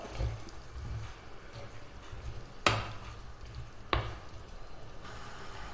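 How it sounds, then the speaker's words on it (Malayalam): Cauliflower being stirred into a curry in a pan, with soft scraping and shuffling, faint frying sizzle, and two sharper knocks of the spoon against the pan, all fairly quiet. "കോളിഫ്ലവറും ചേർത്ത് നന്നായിട്ടൊന്ന് ഇളക്കി യോജിപ്പിച്ചെടുക്കാം"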